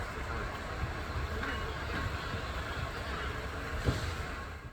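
A British Class 66 freight locomotive runs down a busy road in Poland, giving a continuous broadband rumble and rolling noise with faint clicks, steady and moderately close.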